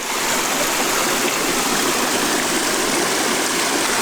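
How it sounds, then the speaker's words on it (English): Water in a backyard swim pond's waterfall stream pours steadily over boulders, a loud, close, continuous rushing and splashing with no pauses. "we got some water kind of coming over off into here"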